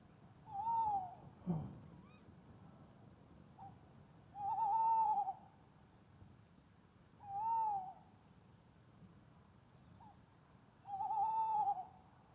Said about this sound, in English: We've got tawny owl with us this morning.